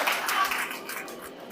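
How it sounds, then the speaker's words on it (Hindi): At a job fair in Milton, Canada, a crowd applauds a food sponsor, a soft wash of clapping that stays fairly steady and moderately quiet over its short length. "थोड़ी तालियां और कर दें"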